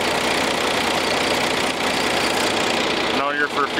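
A John Deere 7020 farm tractor idles steadily and loudly up close, a continuous low rumble that briefly dips near the end, in Alaska.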